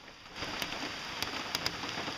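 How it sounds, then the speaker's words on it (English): Steady rain falls on a surface outdoors, a soft continuous patter with a few sharper drops or taps standing out, fairly faint and with no talking. "right now I'm just sitting here waiting for the rain to stop"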